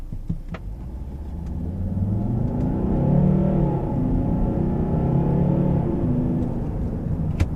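A 2010 Volvo S60 D5, a diesel car, drives along with a steady, fairly loud engine drone that swells and rises in pitch as it pulls, with a few faint clicks and no talking.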